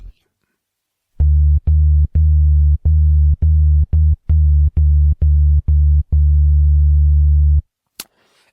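A series of low, booming synthesized kick drum tones from Arturia Pigments pulse in a regular rhythm, each note sustained briefly before cutting off, followed by a short click.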